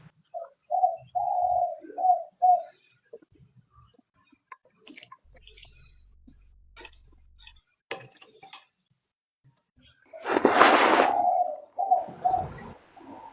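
A bird coos in short, soft, repeated phrases at moderate distance, with a louder, rougher burst later and brief cooing after, amid near-silence and small clicks.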